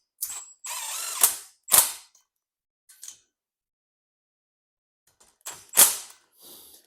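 A ratchet tightens a nut on an overhead garage storage rack: quick close clicking bursts separated by pauses, with a couple of sharp metallic knocks and a final short round of clicks.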